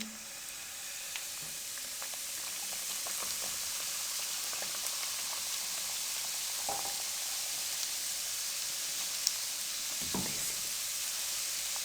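Semolina roasts in ghee with cardamom in a pan, a soft, steady sizzle and fizz with a few faint stirring clicks and taps, quiet and continuous with no talk.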